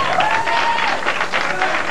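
A crowd at a 1988 King of Bowling tournament at Brentwood Bowl applauds loudly and steadily, with many hands clapping at once and a voice cutting through briefly.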